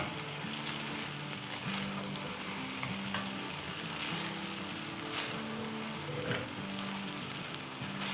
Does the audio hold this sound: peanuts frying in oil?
yes